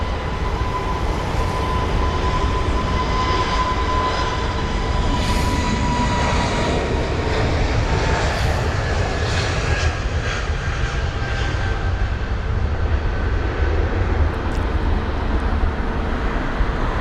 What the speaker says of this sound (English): I can hear the A320neo's engines.